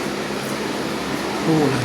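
An electric ceiling fan, freshly cleaned of dust with a new capacitor, runs at high speed with a steady airy whir and low hum close by, and a voice briefly comes in near the end.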